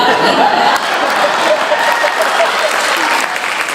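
A studio crowd at a Tamil talk show debate on old versus new songs breaks into loud, sustained applause that runs throughout, with faint chuckles and murmurs mixed in.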